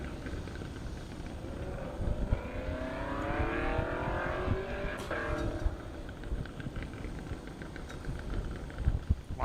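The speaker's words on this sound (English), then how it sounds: "Lots of cars getting ready to go out." Drag race cars idle and rev near the start line at a half-mile airstrip drag race in Indiana, one engine sweeping up and down in pitch at a distance, with a steady low rumble underneath.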